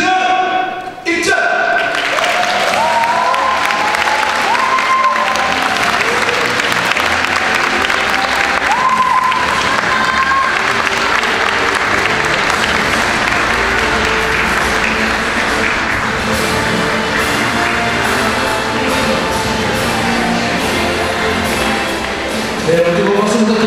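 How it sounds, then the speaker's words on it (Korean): Wedding guests applaud the groom's entrance at a Korean wedding ceremony, a loud, sustained wave of clapping from a large crowd that swells quickly and carries on steadily, with scattered voices mixed into the hall's din. "네, 뜨거운 박수 부탁드리겠습니다."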